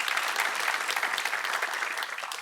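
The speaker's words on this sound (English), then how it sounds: "We are clap happy, this show." Studio audience on a game show breaks into steady, dense applause, sustained and fairly loud throughout with no talking over it.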